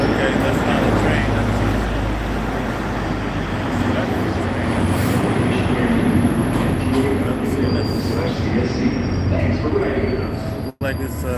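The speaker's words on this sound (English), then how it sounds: "Looks like it's an inspection train" A brightly lit subway inspection train rolls through an underground tunnel, a loud continuous rumble with metallic wheel squeal that cuts off abruptly near the end, under faint background voices.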